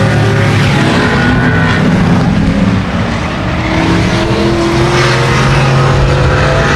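Dirt track race cars roaring around a speedway corner off the cushion late in a race, a loud continuous engine drone with passing cars, near and dense throughout with no letup.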